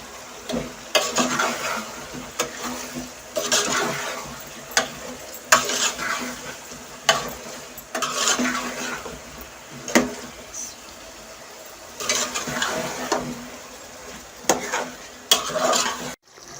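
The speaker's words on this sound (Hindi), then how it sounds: "मैं 2-3 मिनट इसे भून लिया, अभी इसमें आलू डाल रही हूँ।" Potatoes added to a pan of frying masala and stirred with a spoon while cooking pulao, steady sizzling broken by repeated scraping, clattering stirs at close range.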